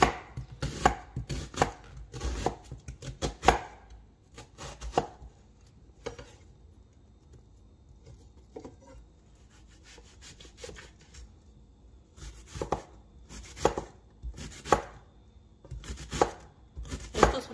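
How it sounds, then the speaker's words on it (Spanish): A knife cuts a small onion into small cubes on a board, sounding as rapid, close chopping taps in bursts at the start and end, with a quieter stretch of scraping and light knocks between and no talk. "La cebolla la voy a cortar en cubos pequeños."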